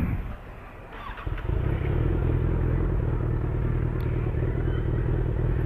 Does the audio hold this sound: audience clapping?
no